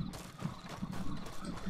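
Horse hooves clip-clopping in the video game Red Dead Redemption II, a steady rhythmic trot of several hoofbeats at moderate distance over low background game ambience.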